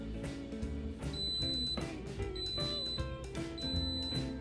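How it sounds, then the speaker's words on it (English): An electric pressure cooker being switched on gives a short series of high electronic beeps over busy background sound and music-like tones, moderately loud and close. "It gives me that 3 beep"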